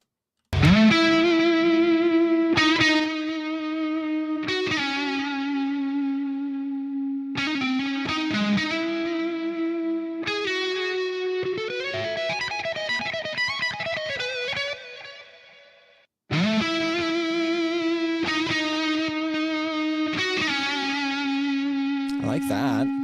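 Electric guitar played through a McRocklin Suite attacker effect, bright and distorted with chorus-like shimmer, sustained notes and chords repeated in phrases with a short pause before resuming, loud and close with no talking.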